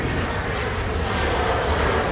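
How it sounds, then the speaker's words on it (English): A British Airways airliner at LAX heading north for departure gives off a continuous, loud engine roar with a smooth, even rush. "we have British Airways heading north for departure"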